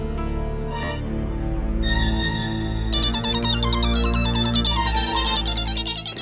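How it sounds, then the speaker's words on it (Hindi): A phone rings at a steady, fairly loud level for about six seconds, a bright repeating electronic ringtone melody that grows busier partway through, with no talk over it. "किसका फोन है?"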